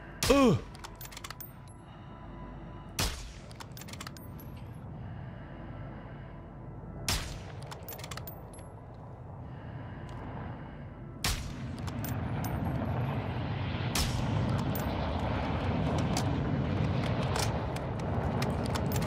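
Gunfire aimed at a helicopter in the video game Call of Duty DMZ: several sharp, loud shots at irregular intervals over a continuous rumbling, rising mechanical drone, with a voice talking briefly.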